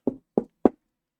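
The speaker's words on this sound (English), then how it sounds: "knock on wood" Three quick knocks on a wooden surface, evenly spaced, short and fairly close, with silence around them.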